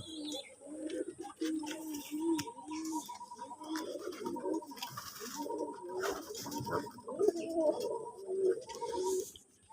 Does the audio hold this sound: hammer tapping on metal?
no